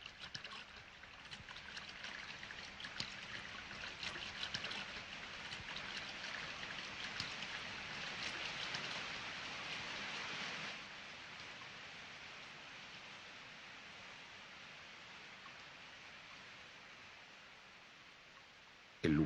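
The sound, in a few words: horsetail waterfall fed by a spring in Petra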